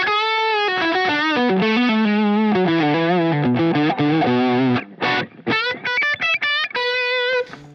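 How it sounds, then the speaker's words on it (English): An electric guitar played through a Line 6 Helix with split crossover, dialed for an overdriven tone, plays a sustained melodic phrase and then short choppy notes, loud and close with no talking. "let's bring the split crossover back in just to brighten it up a touch"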